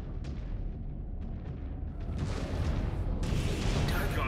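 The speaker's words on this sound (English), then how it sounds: "Firing down range." Mech weapons fire in MechWarrior 5: Clans as muffled, booming volleys over a constant low rumble, growing denser and harsher toward the end, heard faintly at a distance.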